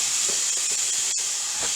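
Pepper hits a hot pan of onions and sizzles with a steady, loud, close hiss, broken by faint soft stirring taps and no voices.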